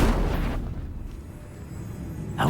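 Incendio fire spell cast in the video game Hogwarts Legacy: a loud, deep whooshing blast that opens strongly and fades into a low rumble, then a fresh burst right at the end.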